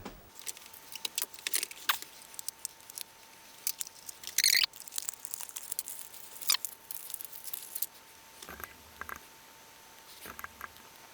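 Joy Factory Da Vinci stylus packaging being opened up close, with quiet crinkles, taps and scratchy tearing bursts, scattered and irregular, plus a brief rattling flurry in the middle, with no voices.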